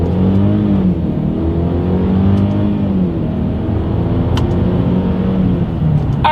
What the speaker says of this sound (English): we're gonna do a little combination of the paddle shifter and acceleration test here